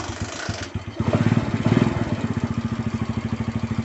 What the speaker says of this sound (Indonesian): Setelah itu kita hidupkan motor.